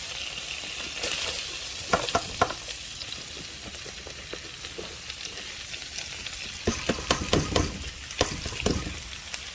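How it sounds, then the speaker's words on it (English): Cabbage with red and green peppers and onions frying in leftover sausage grease, a continuous crackling sizzle with bursts of clattering stirring, loudest near the start and again toward the end, close up and without speech. "So now we're going to throw our vegetables in here and our cabbage."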